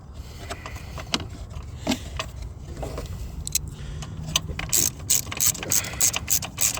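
A ratchet with a 10mm socket tightening the battery hold-down on a 2007 second-generation Mini Cooper, heard as close mechanical clicking and clatter that grows into quicker ratcheting bursts toward the end, with no voices.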